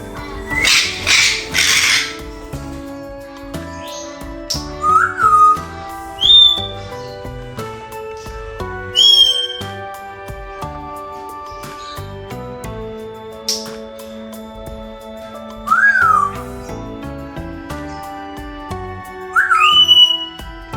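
Breeding pairs of African grey parrots in an aviary cage give loud, separate whistles and squawks, rising and falling calls spaced apart over a quiet background with faint tonal clicks.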